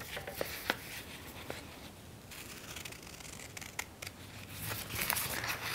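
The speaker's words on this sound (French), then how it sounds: "vous allez prendre vos ciseaux et on va découper tout le long de nos dents" Scissors cutting paper for a children's shark craft, quiet close snips and crinkling paper in an irregular rhythm, with soft handling noises between cuts.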